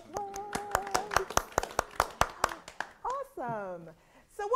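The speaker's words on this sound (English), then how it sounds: "give yourselves a round of applause" A small panel audience at a virtual information session gives a round of applause: a dozen or so sharp, separate hand claps in an uneven rhythm, followed by a voice speaking close by.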